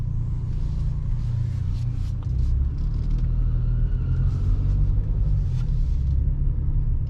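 A Hyundai Bayon's 1.0 T-GDI three-cylinder turbocharged petrol engine starts and settles into a steady, close, low rumble inside the car, continuous with faint higher clicks and no voices.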